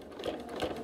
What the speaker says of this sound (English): Sew to the next line.